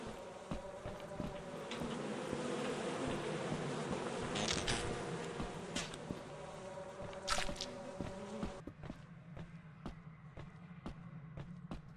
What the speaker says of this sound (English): The bees!